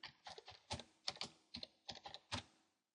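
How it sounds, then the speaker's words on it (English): Close, fairly quiet clicks of a computer keyboard as a word is typed into a search field, about a dozen quick keystrokes in short uneven runs, then stillness. "So let's say I typed in medication."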